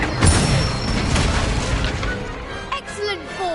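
Incendio fire spell cast during a Harry Potter video game duel practice, heard as a booming burst with a whooshing rush, followed by lingering game effects and music.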